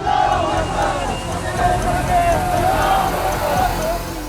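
A large crowd rushes into an Eidgah during Eid in Moradabad, heard as a dense, continuous hubbub of many voices shouting and babbling at close range.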